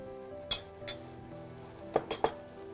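Chopped carrots, celery and leeks sweating in a pan for a chicken shepherd's pie, a soft steady sizzle broken by a few sharp clinks of a utensil against the pan, close and alone.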